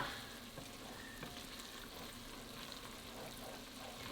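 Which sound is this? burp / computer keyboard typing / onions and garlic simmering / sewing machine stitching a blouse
onions and garlic simmering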